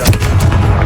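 Confringo blasting spell in Hogwarts Legacy, a loud, booming blast with rumbling low-end thuds packed into under a second.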